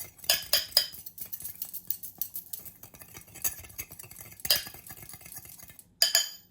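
Yogurt starter mixed in a container with a utensil, bursts of quick clinking and scraping strokes separated by quieter pauses, close and clear, no talking.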